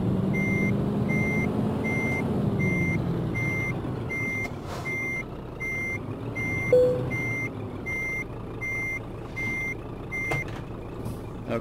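Steady reversing beeps repeat at an even rhythm from a truck backing under a trailer in Euro Truck Simulator 2, heard over a low engine rumble with a brief air brake hiss.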